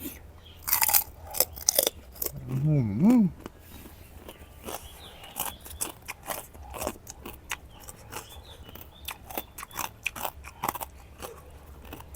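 Crisp, crunchy bites and chewing of fried pork rind repeat steadily up close, loud crackling crunches with a brief vocal sound early on.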